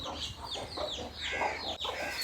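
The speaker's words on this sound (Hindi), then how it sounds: "ये क्यूट से चूजे जो है ना ये अभी अंडों से निकले हैं" Newly hatched chicks cheep in quick high chirps while a mother hen clucks alongside them at a rural home beside cut fodder, the birds close and steady throughout with no talk.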